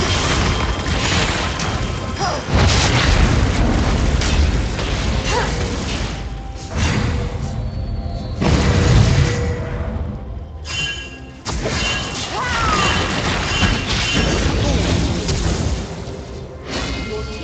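Dense, loud booming crashes and rumbling impacts from a structure being destroyed in a multiplayer video game. The blasts come in heavy waves for the whole stretch, with brief drops between bursts and a voice faintly under the din.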